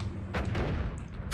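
A bomb blast in the video game Noita: a deep, rumbling boom that swells and rolls for about a second, followed by a sharper crack at the end, with no talking.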